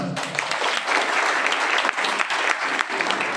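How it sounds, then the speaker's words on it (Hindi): Loud applause from a crowd at a political organization meeting in India, a dense burst of many hands clapping together, sustained and even for a few seconds without speech. "जोरदार तालियां"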